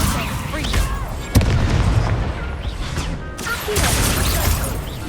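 A fire spell cast in the Hogwarts Legacy video game, a sharp crack followed by a sustained roaring, crackling whoosh, then a second flare near the end, with a voice speaking over the fighting.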